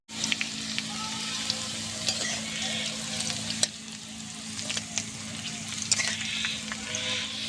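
Green chilli, bay leaf and phoron spices sizzle steadily in hot oil for a village-style Bengali taro leaf dish, a continuous crackling fry with faint stirring clicks and no talking.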